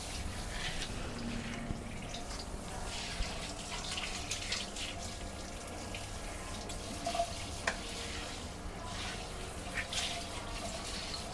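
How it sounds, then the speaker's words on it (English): Water runs steadily from a tap while a dog is rinsed in a bath at a self-service pet wash station, a continuous close splashing wash with small drips and no talking. "Now that I got her all rinsed off, got all of that conditioner out there"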